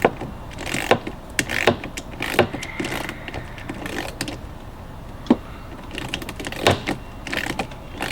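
Sharp clicks and ratcheting taps from tightening a nut on an acrylic windshield being installed on a Montauk/Outrage boat, scattered irregularly and close by with small handling knocks between.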